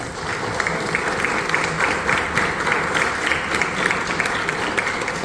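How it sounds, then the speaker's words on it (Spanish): An audience at a book event in Santiago greets author Pablo Hidalgo with sustained, even applause, dense clapping from a sizeable crowd that carries on without a break and without talk over it. "Un gran aplauso para don Pablo Hidalgo."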